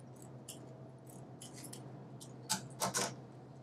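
Scissors snip at a ribbon bow, a few faint, close cuts scattered through a quiet room, with a quick cluster of louder snips near the end.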